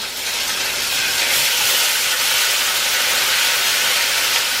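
Very firm tofu sizzles loudly and steadily in a hot frying pan, a continuous bright crackling hiss with no talking.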